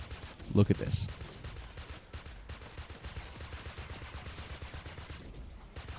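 Mercury LMG light machine gun in Fortnite Save the World firing sustained rapid bursts, a dense rattling stream after a louder opening burst, with someone talking over it.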